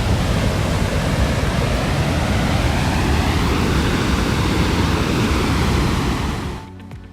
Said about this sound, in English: Dettifoss in northeast Iceland is known as the most powerful waterfall in Europe